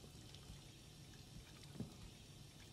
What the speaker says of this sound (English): I wonder if this sound effect of running water is just stuck on